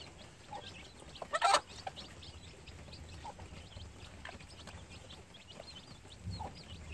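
A mother hen and her twelve newly hatched gamefowl chicks on their first day out of the nest, giving soft, faint clucks and peeps, with one louder burst of calls near the start and low background noise.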